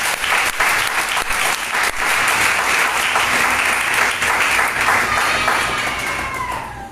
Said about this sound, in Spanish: Regálale un aplauso al Señor.